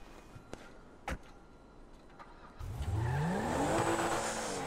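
A tuned car's engine in GTA V, in Trevor's game world, starting quiet with a brief knock, then rising into a loud, sustained rev that climbs steadily in pitch.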